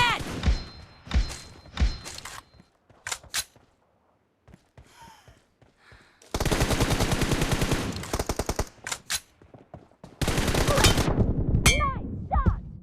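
Gunfire in PUBG Mobile: sharp single shots early on, then long sustained bursts of rapid automatic fire, loud and close, with a few quieter gaps between volleys.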